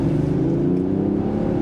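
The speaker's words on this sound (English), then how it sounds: "Very nice feel and a nice sound of this engine coming into this cabin." Inline-six engine of a 2023 Range Rover Sport pulling under acceleration, heard from inside the cabin as a steady rising hum, smooth and continuous with no talk.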